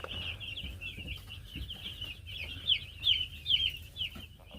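Farm chickens cluck and squawk in a run of short, rising calls that grow louder toward the end, over a low steady background hum with no talking.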